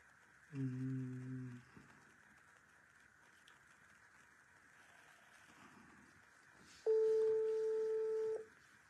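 Two short bursts of telephone keypad tones sound a few seconds apart, with a quiet steady hum between them.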